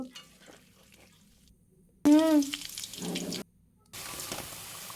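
Cauliflower pakoras fry in hot oil, a steady bright sizzle that starts after a brief voice and a short burst of sputtering, then runs on loud and close.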